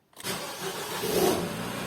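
A Nissan Qashqai engine cranks and catches, then settles into a steady running rumble, close by and fairly loud.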